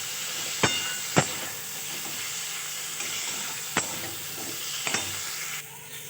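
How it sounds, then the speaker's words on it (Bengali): Pre-fried potatoes stirred into spiced oil for a Bengali crab curry give a steady close sizzle, broken by a few sharp spatula clacks against the pan. "এবার আমি ভেজে রাখা যে আলুগুলো ছিল সেগুলো দিয়ে দেবো। দিয়ে কষাতে থাকবো।"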